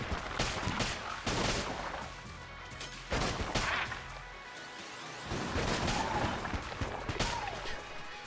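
Abyssal Tentacle gun in Enter the Gungeon fires rapid, dense volleys of crackling shots that surge in loud bursts, separated by brief lulls across the stretch.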